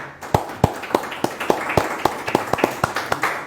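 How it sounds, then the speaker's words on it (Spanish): Audience clapping at a Spanish-language interview event: a dozen distinct, evenly spaced claps in a steady rhythm, fairly close and sharp, with no talk over them. "les pido un aplauso a quienes nos acompañan acá"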